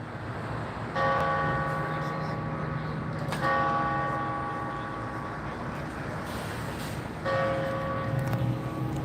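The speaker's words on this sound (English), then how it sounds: "the bell" A church bell outside a court hearing in Waterbury, Connecticut tolls three times at uneven intervals, each strike ringing out with a long humming decay over distant street ambience.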